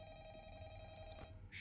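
An office telephone rings in Five Nights at Freddy's, a steady electronic ring tone over a low ambient hum, with a brighter burst at the end.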